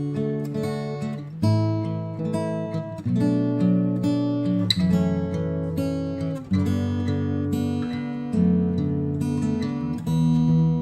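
Fingerstyle acoustic guitar picked close to a Blue Yeti USB microphone, steady plucked notes and bass lines ringing naturally at moderate level, no voices.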